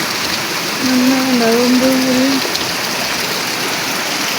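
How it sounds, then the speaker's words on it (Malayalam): Heavy rain pours down outdoors over a yard in a loud, steady hiss that persists throughout, while someone speaks briefly near the start. "ഇത് നല്ല മഴയാണ്, മഴപ്പാറ്റുണ്ട് ഇങ്ങനെ"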